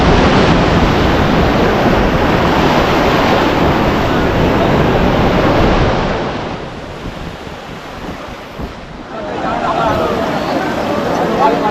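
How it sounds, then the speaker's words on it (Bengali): Large sea waves break and wash in at Digha beach, a loud continuous roar of surf with strong wind noise on the microphone, easing briefly in the middle before swelling again. "এখন বড় বড় বেশ ঢেউ আসছে"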